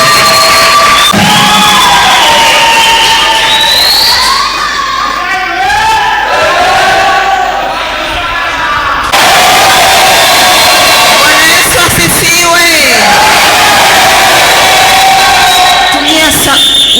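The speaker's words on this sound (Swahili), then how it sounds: "Ongezeni makofi na vigelegele mpaka atakapofika kukaa naye kwenye nafasi yake pale." A crowd at a youth church evening service erupts in loud, sustained cheering, applause and high trilling ululation, continuing without pause and swelling again midway.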